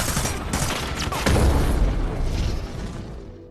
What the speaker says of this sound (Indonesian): Darius diberondong ribuan peluru hingga terjadi ledakan.